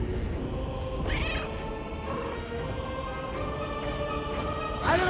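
A cat meowing in the fantasy role-playing game Baldur's Gate 3, several short distinct meows over a low ambient game backdrop, with the last one louder and closer.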